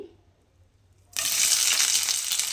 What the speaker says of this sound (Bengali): এইবারে আমি তেলের মধ্যে দিয়ে দেব পেঁয়াজ কুচি।